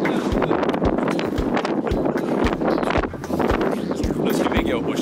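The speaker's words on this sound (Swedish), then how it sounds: "Det är friska vindar." Strong wind buffets the microphone in rumbling gusts, with low thuds and a steady roar throughout.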